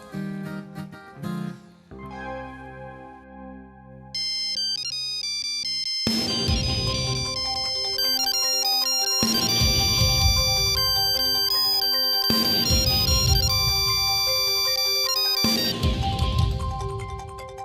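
A melodic phone ringtone plays loudly and repeatedly, its tune cycling several times with no talking.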